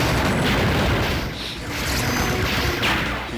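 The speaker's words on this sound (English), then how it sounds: "So the explosions are very nice in this game" Explosions from the Neo Geo shoot-'em-up Strikers 1945 Plus come as a dense, continuous roar of booms and crashing blasts, loud and unbroken throughout.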